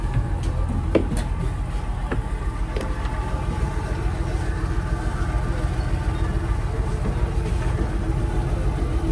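Low, steady engine drone of a government passenger boat idling at a jetty on the Alappuzha–Nedumudi route in Kerala's Kuttanad backwaters, continuous and close with faint background noise and a few brief clicks.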